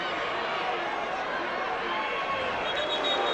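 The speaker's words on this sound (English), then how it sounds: "Of course, the crowd noise you hear in the background" Crowd at a boys' Class 1A state wrestling final, a steady, broad murmur of spectators filling the arena, constant and moderately loud with no distinct peaks.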